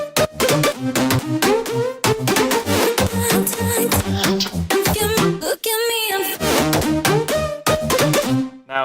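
Layered EDM drop lead synths from a hard dance track, loud and dense, playing a rhythmic stabbing pattern together over pounding drums, with one brief break near the middle before the full stack returns.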